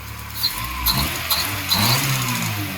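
A B-series-swapped Honda Civic, being rebuilt after a crash, runs with a freshly fitted manifold gasket that fixed a leak. The engine hums steadily and fairly loudly up close, with a few light revs and no voices.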